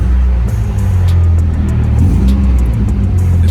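Engine of a Nissan S13 car held at a steady, loud idle-to-rev drone, a constant low rumble close to the microphone with no clear rise or fall.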